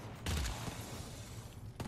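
Three-round machine gun firing in the video game Earthfall, heard as a loud burst of closely spaced shots near the start, then a steady low rumble with another sharp report at the end.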